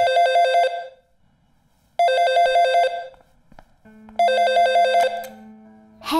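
A telephone bell rings three times in a film scene: loud, harmonic bursts about two seconds apart with quiet gaps between them and no talking.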